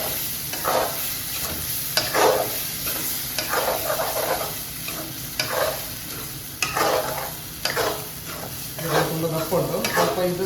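Paneer butter masala stirred in a pan with half-ground masala, giving repeated scraping strokes over a steady close sizzle of frying, with no talking.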